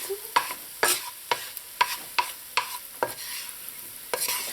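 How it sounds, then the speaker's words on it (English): Fried bitter melon (carallie) with browned onion and garlic is scraped to one side of a pot, making a run of about ten sharp, close scraping strokes in an even rhythm over a faint sizzle, with no talking. "I take all of the Carallie and I pull it to one side of the pot."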